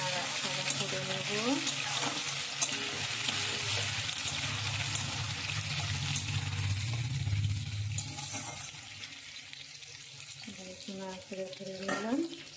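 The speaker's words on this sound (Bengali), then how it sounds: "আলুগুলো দিয়ে এবার একটু নাড়াচাড়া করে নেব।" Potatoes frying in a pan are stirred, giving a close, steady sizzle with occasional scraping, and the sound eases off toward the end. Faint voice-like sounds appear briefly.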